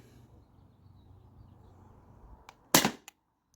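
A T4E TR68 launcher fires a 9.9 gram riot ball: one sharp, loud pop near the end, preceded by a faint tick and followed by a small click, over a quiet background.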